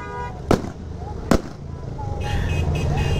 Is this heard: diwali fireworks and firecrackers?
yes